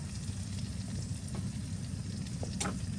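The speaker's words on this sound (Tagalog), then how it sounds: "Tsaka ko siya nilagyan ng harina and then ipiprito natin siya" Flour-coated eggplant cubes frying in hot oil for sisig talong, a steady close sizzle with soft crackles and a few sharper pops near the end, no talking.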